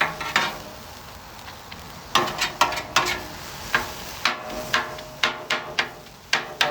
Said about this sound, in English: I'm going to mix some of that grease back in there.